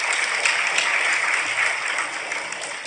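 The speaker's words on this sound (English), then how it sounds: "let's give them a quick round of applause for that" An audience applauding at a life coach's motivational talk: a steady, loud wash of clapping that holds evenly for about three seconds.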